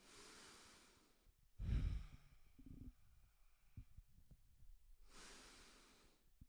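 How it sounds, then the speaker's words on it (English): Slow, deep breaths during a yoga stretching session, a soft airy inhale, a sharper snort-like exhale, then another long breath after a pause, close and quiet with no talking. "Breathing in as you go back, out as you go out."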